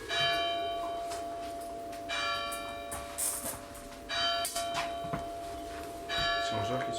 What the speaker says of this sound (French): C'est 11h qui sonne?